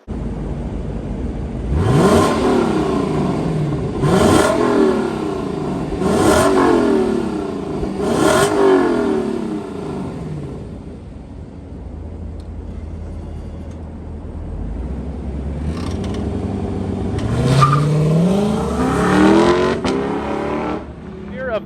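A Lexus LC500 V8 revs hard four times in quick succession, each blip loud and close from behind the car, then settles to an idle before two more rising revs near the end.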